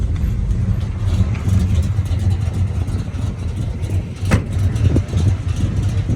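A 1967 Chevy Chevelle SS 396 V8 engine runs with a deep, loping rumble at close range, steady with small uneven pulses and a couple of sharp clicks.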